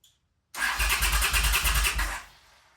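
A 1979 Honda CX500 motorcycle engine with the choke on fires up after a brief silence and runs in a loud, pulsing burst for a couple of seconds before cutting out and fading.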